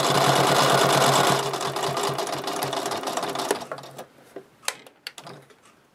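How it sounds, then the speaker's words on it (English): A sewing machine stitches quilt binding toward a corner in a steady, loud run for over a second, then continues in shorter uneven bursts with brief pauses and clicks near the end. "I keep sewing until I get to a quarter of an inch from the end of the corner"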